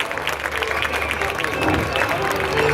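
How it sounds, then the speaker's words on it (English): An outdoor crowd at a sea lion show on Pleasure Island gives a round of applause for three sea lions, a moderate spread of clapping and crowd noise that swells slightly toward the end. "how about we give the three sea lions a little round of applause"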